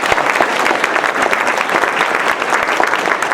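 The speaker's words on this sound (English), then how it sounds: "can I ask you to give a big round of applause to Professor Charles Hopkins" A conference audience in Aarhus gives a warm round of applause to welcome Professor Charles Hopkins, a loud, continuous wash of many hands clapping close by for a few seconds.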